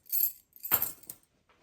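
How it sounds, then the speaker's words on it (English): House keys jangle close by in two short metallic bursts, followed by a faint final clink. "and my house keys."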